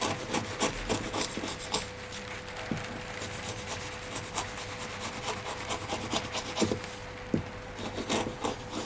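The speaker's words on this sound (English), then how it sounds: "Just run along there with a chisel." A chisel is drawn along the edge of a wooden cupboard door panel, making a close, steady rasping scrape with repeated short strokes and a few sharper ticks.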